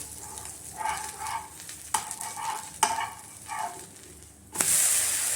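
Barley dosa roasts in oil on a hot pan, a steady soft sizzle with scraping and stirring strokes of a spatula, ending in a brighter hiss as it is turned.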